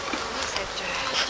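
Dense, close buzzing of many honeybees swarming around a row of nine beehives in a French village, a continuous hum for just over a second.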